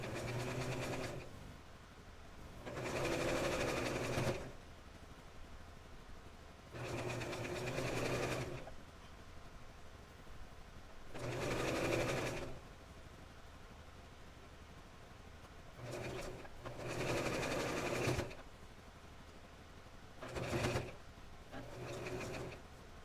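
Domestic sewing machine stitching the seam of an 18-inch doll nightgown, its steady mechanical whir running in several separate bursts of a few seconds each, with quiet pauses between them.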